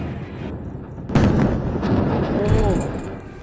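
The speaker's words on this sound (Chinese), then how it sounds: "随即，不远处传来强烈的连续爆炸声，升起朵朵黑蘑菇云" Strong explosions from nearby artillery shelling close to a peacekeeping camp in Lebanon: one heavy sudden blast followed by a sustained rumbling roar of continuing detonations, loud and close.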